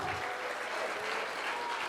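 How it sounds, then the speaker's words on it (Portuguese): Steady, dense applause from a church congregation during a worship service, loud and continuous throughout with no pauses. "Vamos dar um forte aplauso ao Senhor?"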